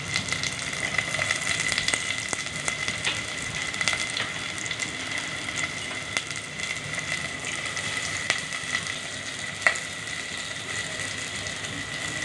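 Bitter gourd frying in a pan with chopped shallots, giving a continuous crackling sizzle with occasional sharper pops and ticks, steady and moderately loud throughout.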